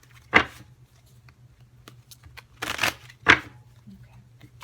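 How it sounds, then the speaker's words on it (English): Tarot cards are shuffled by hand in three crisp riffling bursts, close and clear, separated by quiet pauses in an otherwise still room. "I'm just going to keep shuffling till I feel"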